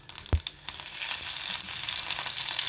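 Mustard seeds and cumin hit two spoons of hot oil in a kadai, with a few sharp pops and spoon clinks at first, then a steady, close sizzle that fills the rest of the moment.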